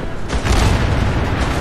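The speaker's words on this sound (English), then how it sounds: "Explosions!" Explosion in the video game Fallout 76, a short loud deep boom with a rumbling, noisy blast tail filling the whole moment.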